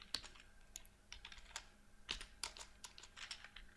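Quiet, close typing of code on a computer keyboard, irregular clusters of key clicks with short pauses between bursts, no talking.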